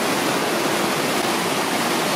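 Mountain stream in the Héric gorges rushing steadily, a dense, close, continuous roar of flowing water with no other sounds.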